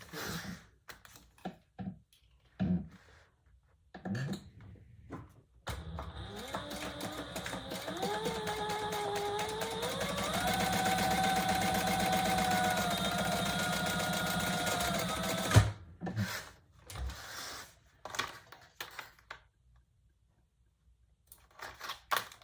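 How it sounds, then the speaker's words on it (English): A sewing machine runs steadily for about ten seconds, top stitching along a purse, with its motor whirring and rising slightly in pitch. Scattered clicks and handling noises come before and after, close by and with no talk. "we are going to top stitch just along here"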